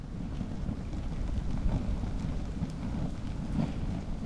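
Steady wind buffets the microphone with a low, rumbling roar and occasional gusts, continuous and close, with no voices.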